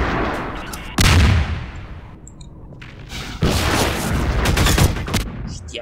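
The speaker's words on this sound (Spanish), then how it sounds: "Hay un transporte que nos está disparando." Gunfire from a dropship transport in Half-Life 2 Episode One, heard as two loud, sustained bursts of broadband blasts with a quieter gap between them, close and harsh.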